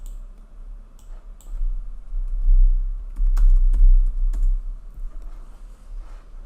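Typing on a computer keyboard, a quick run of clicking keystrokes in short bursts with pauses, close and clear with no talking.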